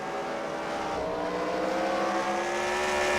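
Race cars in a CWRL fight night at The Freedom Factory, engines roaring steadily and loudly around the track as the cars come out of turn 4, a continuous close drone with rising revs.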